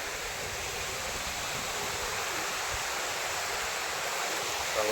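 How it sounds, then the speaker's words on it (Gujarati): A stream of water flows at Kadamgiri near Palitana, Bhavnagar, giving a steady, broad rushing hiss that stays even and close throughout. "અહીંયા નીચે છે ને આવું ઝરણું ચાલુ રહે"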